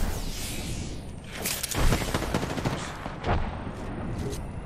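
Gunfire in a first-person shooter video game comes in rapid automatic bursts, with a heavy cluster near the middle and another shortly after, over a constant hiss of game ambience.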